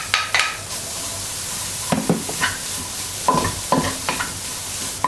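Dried shrimps and dried scallop stir-fry in a wok for dim sum turnip cake, a steady close sizzle broken by scattered sharp scraping strokes of a spatula, with no talking.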